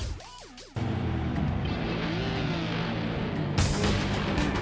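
Race car engine from the Xbox racing game Forza Motorsport, a loud steady roar that follows a brief rising-and-falling rev, with another surge near the end.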